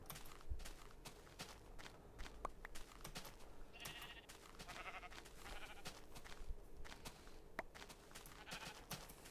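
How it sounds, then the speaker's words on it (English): A flock of sheep bleats repeatedly in a video game during wool gathering, several calls rising over steady footsteps and clicking game sounds at a moderate level. "God, there's a lot of sheep."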